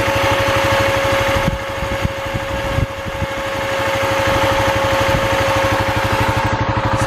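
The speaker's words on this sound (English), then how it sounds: "It really sounds like a fan." Plastic radiator cooling fan pressed onto a radiator, running as a steady close whir with a constant hum and a few faint knocks partway through.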